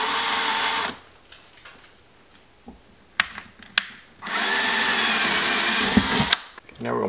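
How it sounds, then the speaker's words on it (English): A power drill whines loudly and steadily for about a second, then runs again in a longer burst after a pause filled with faint clicks and taps. "Then we're going to drill a hole for the anchor."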